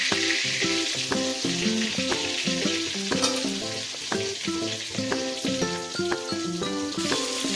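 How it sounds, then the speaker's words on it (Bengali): The remaining prawns sizzle in hot oil in a pan, a continuous close crackle punctuated by frequent metallic scraping and tapping of a spatula as they are moved about. "বাদ বাকি যেগুলো আছে সেগুলো ভেজে নেব।"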